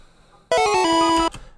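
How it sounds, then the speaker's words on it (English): A short, bright burst of triumphant music, loud and harmonically rich, lasting under a second before cutting off abruptly. "we're going to add in some victory music here"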